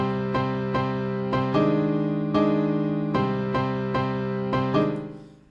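A repeating piano pattern of chords and notes, quantized in music software into a tight, evenly snapped rhythm, played alone and clearly, fading out at the end.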